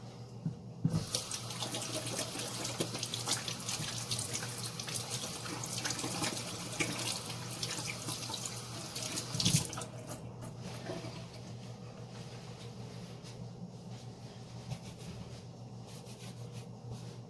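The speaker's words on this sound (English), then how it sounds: "Wash my hand 1 second." A kitchen tap runs steadily while hands are washed under it in the sink, a continuous close splashing hiss with small shifts as the hands move.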